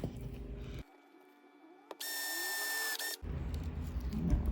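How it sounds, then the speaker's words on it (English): A power drill whirs steadily for about a second as it bores through folded leather for a loop pull, set between stretches of louder handling noise and background rumble. "I'm going to fold it over and then drill."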